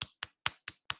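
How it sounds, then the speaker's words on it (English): Five soft, slow golf claps, evenly spaced about a fifth of a second apart. Each is a short, light pat that stands alone with no voices. "Golf claps for the Efron brothers."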